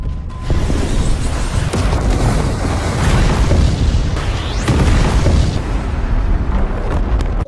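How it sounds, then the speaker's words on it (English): A submarine fires a missile and a massive explosion follows in a creature film, a loud sustained roaring boom with rumbling debris and crackling bursts that fill the whole stretch. "the submarine is seen firing its missile"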